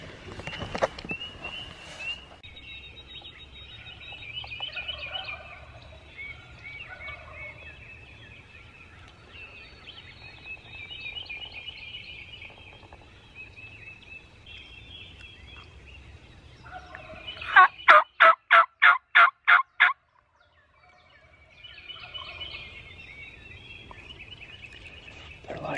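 Wild turkeys gobble repeatedly at a distance during a hunt, with a sharp burst of rapid, loud gobbling calls near the end amid quiet outdoor ambience.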